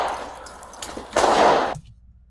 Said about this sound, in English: Did you hear that third shot? Listen for the third shot.